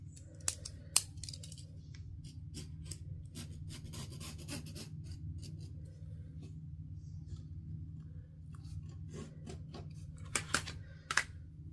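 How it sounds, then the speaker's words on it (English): Scissors trim fabric for a sewn fanny pack with card slots, making soft, quick snipping cuts in small clusters over a low steady room hum. "I'm going to go ahead and give that a really quick trim"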